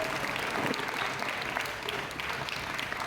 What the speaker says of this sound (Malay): Beri tepukan gemuruh untuk semua guru di sekolah ini.